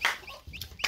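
A black desi hen lets out short, soft clucks, a few quick calls heard close and fairly quiet.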